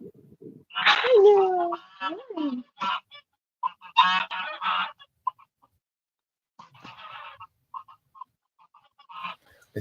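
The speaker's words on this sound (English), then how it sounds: "Where's the goose at?" A goose honks in several loud, uneven nasal calls, with more scattered fainter honks and clucks later, in a farmyard setting with chickens and roosters.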